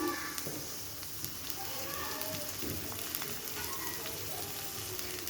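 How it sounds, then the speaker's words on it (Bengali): Sliced onion frying in a pan with whole spices such as cinnamon, bay leaves and cardamom, a steady moderate sizzle with scattered small crackles, with someone talking over it. "এখন পেঁয়াজটা হালকা সোনালি কালার হওয়া পর্যন্ত ভেজে নিচ্ছি"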